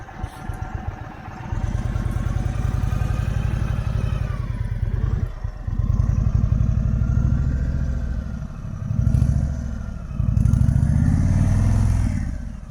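Motorcycle ridden at walking pace through a cone slow-race drill with the clutch slipped and brake dragged, a close, steady low putter that rises and dips in short surges.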